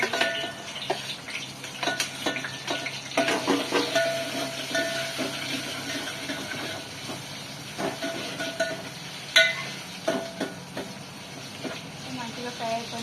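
Brinjal curry frying and being stirred in a pan, a steady sizzle with scraping stir clatter throughout, with faint talk in the background.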